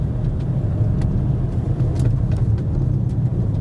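A Kia rolls along an icy dirt road without braking, with a constant engine hum and a low rumble. Scattered crackles and ticks from the surface run through it.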